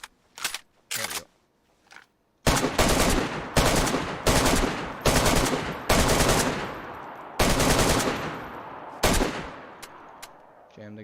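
A damaged automatic rifle in the DayZ video game opens up in full auto, a few short bursts followed by several long, loud, close-up strings of rapid shots with brief pauses, as if stuttering or jamming between bursts.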